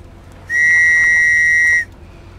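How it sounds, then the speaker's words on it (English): An emergency survival whistle in the game Stranded Deep gives one loud, steady, shrill blast lasting over a second over faint background hiss, then cuts off. "an emergency survival whistle could save your life"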